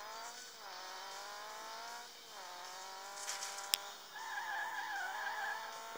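Tires squealing through a drift in the Rally Fury racing game, a continuous engine drone with stepped pitch shifts, a sharp click near the middle, then a wavering high skid screech toward the end.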